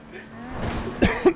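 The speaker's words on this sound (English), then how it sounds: "Bit of a cough there." Two quick, close coughs at the end follow a brief murmur.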